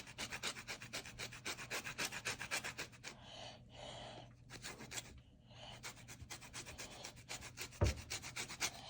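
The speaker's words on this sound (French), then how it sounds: "On commence par gratter un orange." An orange rubbed against a grater in a home kitchen while making a cake, steady rhythmic rasping strokes close up, briefly pausing midway, with no voices.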